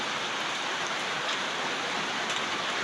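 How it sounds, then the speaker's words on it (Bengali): Heavy rain pours steadily in Mirpur, a dense, loud, unbroken hiss with no pauses and no voices. "আপনাদের এলাকায় বৃষ্টি হচ্ছে নাকি আমাদের এলাকায় বৃষ্টি হচ্ছে আপনাদেরকে দেখাচ্ছি"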